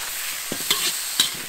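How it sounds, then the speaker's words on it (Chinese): Yak hooves being stir-fried in a wok with seasonings and cooking wine. A metal spatula scrapes and clinks a few times over a steady sizzle. "翻炒了一会儿呢，再倒点料酒、"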